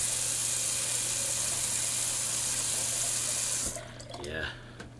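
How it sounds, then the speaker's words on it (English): Cold water gushes loudly from a bathroom tap as a shaving razor is rinsed, then the flow stops, leaving a few faint clinks and small handling noises. "just a little cold water rinse there"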